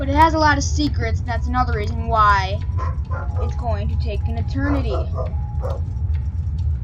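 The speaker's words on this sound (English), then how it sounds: "Sorry about the dogs in the background." Dogs barking somewhere in the background, faint yips and whimpers mostly buried beneath someone talking close up throughout.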